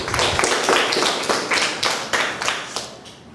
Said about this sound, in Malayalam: അടുത്തതായി കയ്യടി.